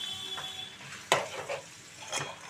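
Tomatoes frying with drumsticks in a pan give a faint sizzle under a few soft spoon scrapes and one sharp knock against the pan, close but quiet.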